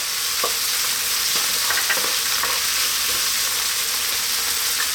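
Garlic and ginger paste fries in a pan with a steady, lively sizzle, broken by light stirring scrapes, close and continuous with no talking.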